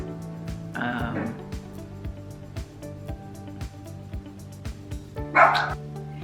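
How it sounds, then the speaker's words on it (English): Two short bursts of dog barking, one early and one near the end, heard over a steady musical background with soft rhythmic beats. "he's barking at a dog outside"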